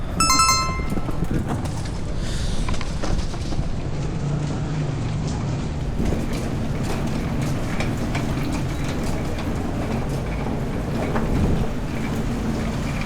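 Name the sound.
roll-on roll-off ferry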